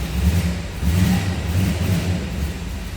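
A 1961 Chevrolet Corvette convertible runs after a cold start, its engine giving a loud, steady low rumble with slight rises in revs, close up and without voices.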